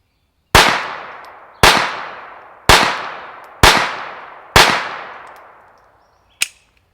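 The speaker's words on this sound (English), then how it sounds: "we'll get the TX22, no suppressor, CCI standards" A Taurus TX22 pistol fires unsuppressed with CCI standard ammunition: five sharp, loud shots at roughly one-second intervals, each with a ringing decay, then a shorter, quieter sixth crack.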